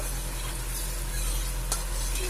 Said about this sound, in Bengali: এইবার আমি একে একে মাছগুলো ভেজে নেব।